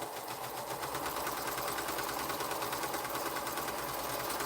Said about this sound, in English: I cut right sides up, but I will sew right sides together.